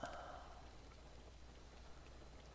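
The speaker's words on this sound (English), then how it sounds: "It's raining." Rain falls in the Little Nightmares II video game as a soft, steady patter on surfaces, faint and continuous throughout, with a brief higher tone fading at the start.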